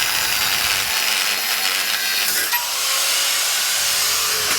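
A long carriage bolt from a Firestone Ride Rite airbag suspension kit on a truck being cut off with a power tool, giving a loud, steady, high-pitched grinding whine that runs continuously without talk.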